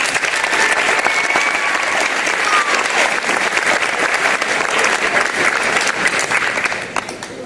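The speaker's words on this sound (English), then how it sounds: "Everyone give them a round of applause." Sustained audience applause fills the room at a 2022 election results event, dense and loud clapping from a crowd that fades slightly near the end.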